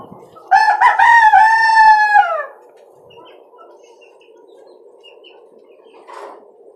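Native and tiger-breed chickens in a cage, with one rooster giving a loud, close crow that lasts about two seconds, followed by soft, scattered clucking over a steady low hum.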